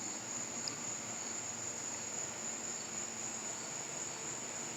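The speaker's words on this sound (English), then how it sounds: "So you hear like the crickets and all the bugs and things in the background." Crickets and other insects chirp outdoors in a quiet natural setting, a steady high-pitched trill running unbroken in the background, soft and even with no voices.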